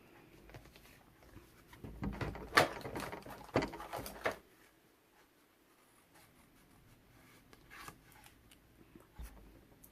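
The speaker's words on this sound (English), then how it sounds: "I'm just gonna have to carefully fuzzy cut around that." Scissors fuzzy-cut around a shape in black cardstock, with a cluster of close, scratchy snips and rubs in the middle, then quieter handling and a faint sound of paper shifting.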